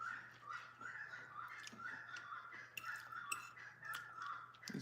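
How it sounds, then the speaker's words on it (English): Birds call outdoors in the morning, their bright chirps and caws repeating in irregular bursts over a steady low hum, moderately near and unaccompanied by speech. "Dang birds. I don't know if you guys can hear these birds."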